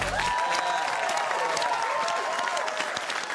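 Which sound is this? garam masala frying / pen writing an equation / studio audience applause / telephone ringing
studio audience applause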